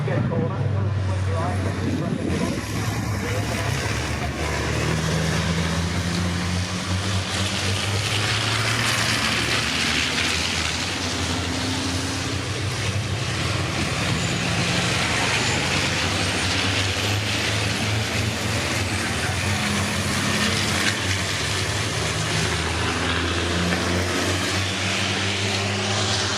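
Racing trucks in the British Truck Racing Championship roar around Donington Park, a dense, loud blend of heavy diesel engines that swell and fade as the pack passes, with a commentator talking over them throughout.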